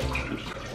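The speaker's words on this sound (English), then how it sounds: "we're gonna pour the tequila in the blender" Tequila glugs out of a freshly opened bottle into a blender, a short, close, splashing pour.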